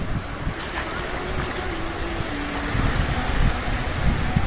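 Fresh wind blowing steadily across the sea off Tuban, with a constant broadband rush, likely from waves and a boat, that swells slightly toward the end. No one speaks.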